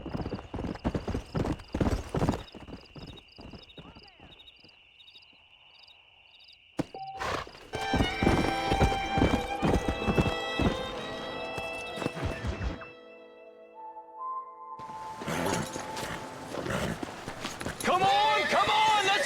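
Horse hooves clip-clop and a horse whinnies in the Red Dead Redemption video game, with steady trotting footfalls, a gap of quieter hoofbeats, then busier movement. Voices talk over parts of it.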